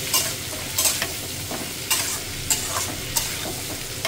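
Onions, fish and vegetables frying together in a pan under vigorous stirring, a close steady sizzle broken by regular scraping strokes and sharp clinks of the spoon, with no voices.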